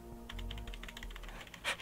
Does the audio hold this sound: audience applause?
no